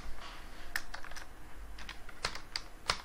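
Keys clatter on a computer keyboard in a quick, uneven burst of light clicks, close and fairly quiet with no talking.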